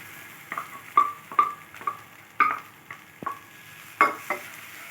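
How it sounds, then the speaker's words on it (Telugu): Moringa leaves and soaked moong dal frying in a pan, with soft stirring scrapes and quiet clinks recurring every half second or so over a low sizzle, close by. "ఇవి కూడా 5 నిమిషాలు ఫ్రై చేసుకోవాలి మునగాకుతో పాటు"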